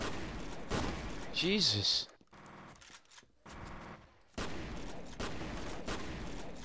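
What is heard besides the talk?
gunfire in the video game F.E.A.R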